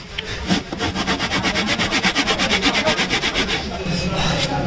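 A hand saw cuts through wood to shape harmonium keys, the steady back-and-forth strokes forming a fast regular rasping rhythm, close and loud, with no talking over it.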